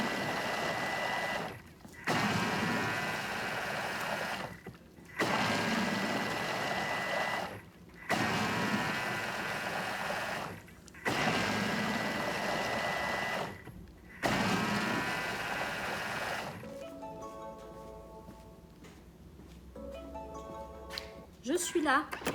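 A Thermomix food processor runs in loud steady whirring bursts of about two to three seconds, separated by short pauses, then stops while someone talks over the quieter ending.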